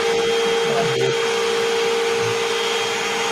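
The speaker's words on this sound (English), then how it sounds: "Got the vacuum here." A vacuum cleaner runs with a loud, steady whine and constant hum close by, unbroken across the whole stretch.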